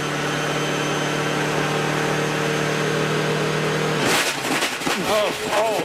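Damaged Mazda 6 Skyactiv diesel turbo race car at Watkins Glen: a steady engine drone, then a rough burst of clanking and grinding from the gearbox with overlapping commentary.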